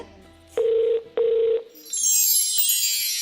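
Two steady tones from a phone line, each about half a second, followed by a click and a rising burst of noise.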